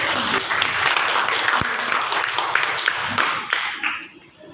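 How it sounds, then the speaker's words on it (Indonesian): A group at a school gathering claps together, a lively burst of applause with a few sharp individual claps standing out, fading away near the end. "Tepuk tangan untuk kita"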